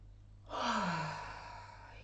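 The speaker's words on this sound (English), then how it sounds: "Take a deep breath in." A single deep breath drawn in slowly during a guided tapping meditation, a soft airy inhale that swells and fades against a quiet background.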